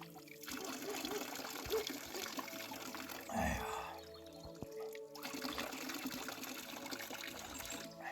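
Spring water trickles and pours steadily at close range, a soft continuous liquid flow with a brief louder splash midway, as if the water is being caught and drunk.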